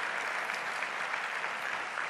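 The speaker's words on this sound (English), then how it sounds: "Give yourselves a round of applause on that great achievement" Steady applause fills a political speech venue after a call to celebrate a citizenship achievement; dense, even clapping from a sizable crowd holds at a moderate, far-off level for about two seconds with no talk.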